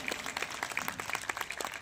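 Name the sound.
audience applause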